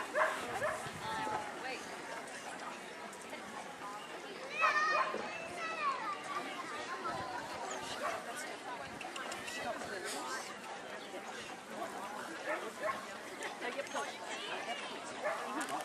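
Terrier dogs barking among crowd chatter and children's voices at a dog show, the yaps scattered and mid-distance through a busy, continuous background of talk.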